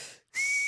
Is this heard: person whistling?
yes